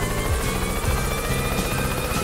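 Helicopter sound from the video game Yooka-Laylee, a loud, steady rotor chop with a constant buzzing whine, close and uninterrupted throughout.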